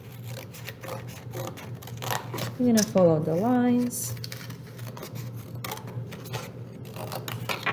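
Scissors snip around the outline of a paper plate flower for a rainbow color wheel craft, a soft rasping cut mixed in under a steady speaking voice.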